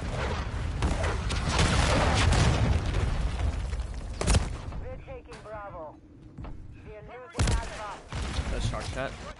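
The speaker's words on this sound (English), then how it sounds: "Friendly cruise missile deployed." A friendly cruise missile strike hits in a military shooter game, heavy booms and rapid gunfire dominating at first, then fading as radio-style voice callouts come through before more sharp blasts return.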